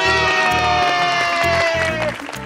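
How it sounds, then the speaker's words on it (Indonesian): Children cheering and clapping, a loud excited burst of shouts and claps that fades out near the end while a steady tonal music bed runs underneath. "Wow, tepuk tangan dong."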